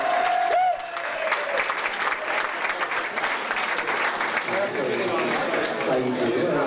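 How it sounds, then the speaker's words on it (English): Audience applause greets a stage contestant at a 1993 entertainer-of-the-year pageant, a dense steady wash of clapping filling the room, with a brief tone and voices briefly audible at the start. "Come on, give her a round of applause."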